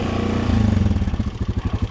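Loose heat shield on a Honda 500 Knight ATV rattling while it drives, a steady close engine drone breaking into quick rhythmic clattering pulses.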